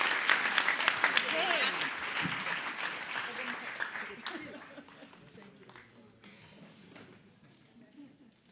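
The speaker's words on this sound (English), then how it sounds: "let's give him a round of applause for his amazing achievements" An audience at the 2025 HKS Alumni Association annual meeting and award presentation applauds a winner. The dense clapping starts loud and gradually thins and fades toward the end, with faint chuckles and shuffling.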